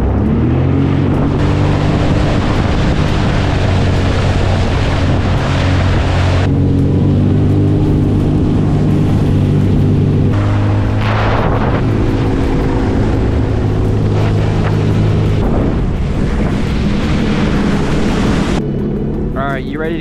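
A jet ski speeds over waves with a loud, close engine roar that rises and shifts in pitch, mixed with wind buffeting the microphone and splashing, and a voice is heard talking over it.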